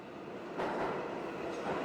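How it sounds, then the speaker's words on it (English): Train ride on the 19 line: a steady, broad rumble of a rail car in motion, with a slight swell in loudness partway through and no voices. "So I'm on a train, 19 line."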